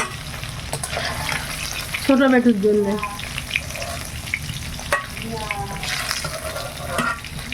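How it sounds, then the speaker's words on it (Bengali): Fish frying in a home kitchen pan, a loud, busy sizzle with crackling bursts running throughout, while someone speaks briefly over it twice. "একটু মাছটা যেহেতু ভাজা খাবে তো একটু বেশি ভেজে নে"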